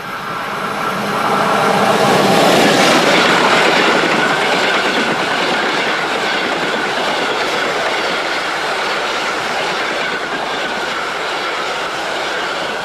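The Venice-Simplon Orient-Express train on the move, a loud, continuous rumble and rattle of wheels on track with steady rolling noise and faint squeal, sustained throughout without speech.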